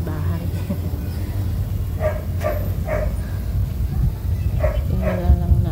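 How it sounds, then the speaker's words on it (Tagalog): Several neighbours' dogs bark in scattered bursts at a distance, over a steady low rumble of background noise. "Pasensya na guys at medyo maingay yung mga aso sa aking mga kapitbahay."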